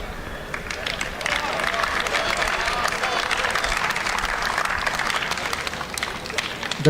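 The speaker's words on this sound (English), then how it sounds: "The crowd claps as it is deuce." Crowd clapping at a WTA 125 tennis match in Mumbai as the score reaches deuce; steady, dense applause runs loud and unbroken for the whole stretch.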